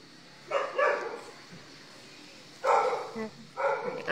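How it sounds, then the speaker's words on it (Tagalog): A dog barks in short bursts at moderate distance, three clusters of yaps spaced over a few seconds against a quiet background in a home in Calabanga, Camarines Sur. "Sa ingay ng aso."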